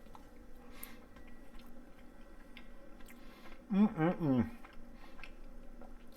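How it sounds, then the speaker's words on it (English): Someone chewing a bite of tender braised chuck roast, cooked about 2.5 hours in black iron; a short burst of close, moist chewing and mouth sounds stands out near the middle against a quiet room. "let's see what it tastes like"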